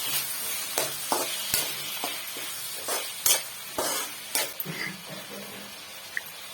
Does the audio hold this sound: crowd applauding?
no